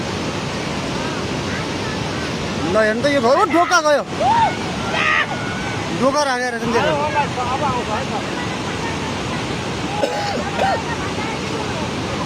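A flooded river in the Nalgad area of Jajarkot surges along its bank in a steady, loud broadband roar, with several people talking over the rushing water.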